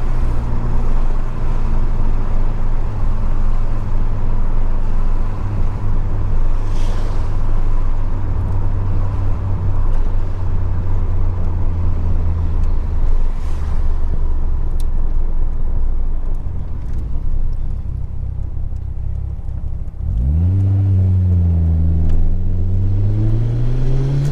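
A 1987 Ford Sierra Cosworth RS500 spinning its wheels, heard as a loud, sustained engine drone that dips and then rises sharply with revving pitch sweeps near the end.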